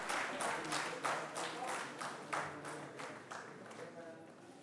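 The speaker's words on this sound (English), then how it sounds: "I would request everybody to please give the winners a big round of applause" Guests at an agricultural research foundation day award ceremony applaud the winners, a scattered rhythm of claps that is moderately loud at first and gradually thins out, with faint voices beneath.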